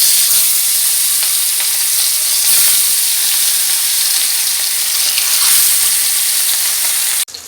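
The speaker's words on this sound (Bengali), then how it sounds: "আর এই পাশে ততক্ষণে মাছটা ভেজে নেব" Tilapia fish frying in hot oil on a home stove, a loud, continuous close-up sizzle and crackle that holds steady throughout, with no one speaking, before cutting off abruptly at the end.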